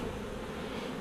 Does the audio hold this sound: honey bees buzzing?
yes